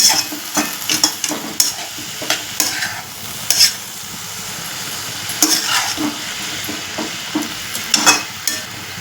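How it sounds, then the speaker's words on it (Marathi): Drumstick leaf sabzi is stirred in a pan, a steady run of scraping, clattering spoon strokes over a soft sizzle, close and fairly loud, with no talking. "भाजी मिक्स करून घेऊया"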